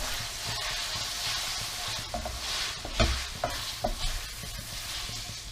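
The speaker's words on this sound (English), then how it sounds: "get it into your bacon pan and clean off the bottom of the pan" Cooked pasta being stirred through a bacon pan to lift the browned bits, with a soft steady sizzle and a few scraping clinks of a utensil against the pan bottom, no talking.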